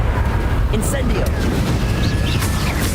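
Incendio fire spell from Hogwarts Legacy, a dense roaring burst of flame with rumbling, crackling blasts, loud and continuous across the short span.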